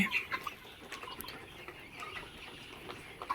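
Several poultry farm chickens cluck in short, scattered bursts at moderate distance, with a soft, steady background hum and no talking.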